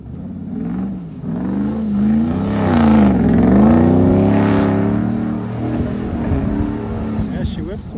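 A two-wheel-drive base-model Dodge Cadillac with a trunk does donuts, its engine revving up and down in a loud rising and falling drone for several seconds close by, with people talking over it.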